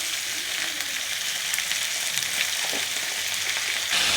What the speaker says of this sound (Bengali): সবজিটা ভালো কষানো হয়ে গেছে, এবার আমি শাকটা দিয়ে দিচ্ছি